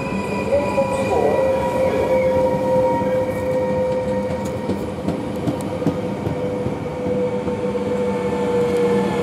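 A VIRM double-deck train pulls into Arnhem station with a steady rumble, sustained high wheel squeal and faint clatter, while muffled platform sounds carry beneath.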